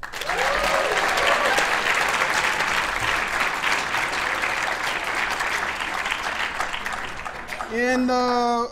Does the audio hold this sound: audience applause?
yes